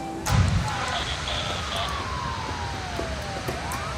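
Ambulance siren from the city-building game SimCity, a wailing tone sweeping steadily through the clip over a dense, constant game soundscape, with a brief thump near the start.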